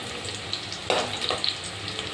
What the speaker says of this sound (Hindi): फ्लेम मेरी हाई है अभी प्याज फ्राई करने के टाइम पर